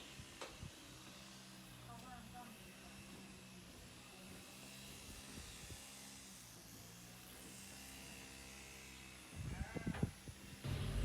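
Sheep bleating repeatedly on a rural tourist property in Wang Nam Khiao, mixed with a droning lawn mower and someone talking over it, with louder noise toward the end.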